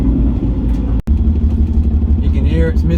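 A single-turbo BMW N54 car engine idles rough and uneven in limp mode, its low rumble stumbling with misfires, briefly cutting out once, while someone talks over it.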